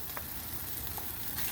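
Meatballs frying in butter, a steady close sizzle and crackle of fat running unbroken with faint clicks of the pan.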